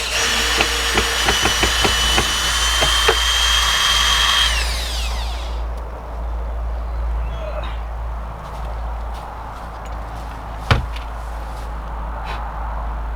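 Power drill backing screws out of a wooden hen house during winter preparations, with a loud, close whine for about five seconds that winds down, followed by quieter handling noises and a single sharp knock.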